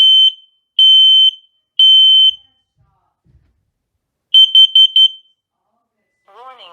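A smoke detector sounds its alarm after the test button is pressed, giving three long, piercing beeps, then a quick run of shorter beeps. A spoken warning follows at the end.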